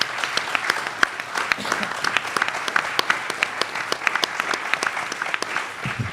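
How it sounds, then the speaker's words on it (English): Audience applause closing a public talk on groundwater and land subsidence, steady, fairly close clapping with individual claps sharp throughout and no pause. "Please give them a round of applause."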